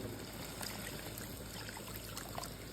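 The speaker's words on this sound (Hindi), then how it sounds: "अब इसके अंदर हम ऐड कर देंगे पानी" Water streams steadily into a pan of fried spices, a continuous soft trickling and pouring wash, faint and unbroken, with no talk over it.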